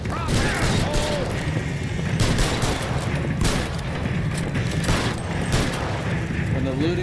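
Sustained gunfire in the L.A. Noire video game, a dense fusillade of rapid shots and bursts throughout, with voices shouting over the shooting.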